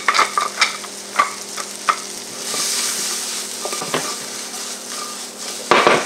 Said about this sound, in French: moi mets ton petit oignon rouge là-dedans